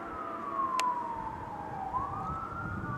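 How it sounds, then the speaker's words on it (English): A wailing fire engine or ambulance siren sweeps steadily up and down over a low rumble of road traffic, at moderate distance. "A lot of sirens these days."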